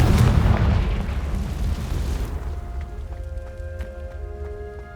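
Confringo explosion spell in the Hogwarts Legacy video game, a loud booming blast at the start that rolls and decays over a few seconds, followed by faint chiming magical tones and a quiet tail.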